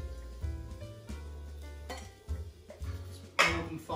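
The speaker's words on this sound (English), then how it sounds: "Give the glasses a little bit of a stir just to work that soda through." Soda and ice stirred in cocktail glasses, light clinks and rattling of ice against glass in brief bursts over quiet background music.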